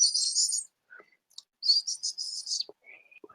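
A person whistles an imitation of a robin's thin, high-pitched seet alarm call, giving several short, bright, sibilant bursts separated by brief pauses, with faint clicks in between.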